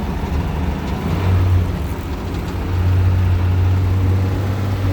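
A truck engine running steadily up close, with a loud, even low drone that briefly strengthens twice, no voices.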